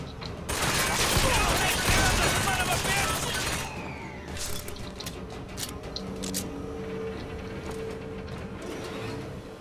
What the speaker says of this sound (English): Holy crap, I'm getting shot from everywhere.